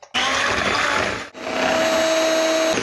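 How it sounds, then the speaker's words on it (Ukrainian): An electric mixer beating eggs with a pinch of salt, a loud continuous whir starting abruptly, dipping briefly once, then carrying on steadily with no talk. "До яєць додаємо дрібку солі та починаємо збивати."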